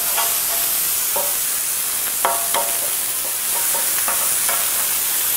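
Pipe steaks sear on a hot surface, giving a loud, steady sizzle with a few sharp crackles and spatula scrapes scattered through it; no voices.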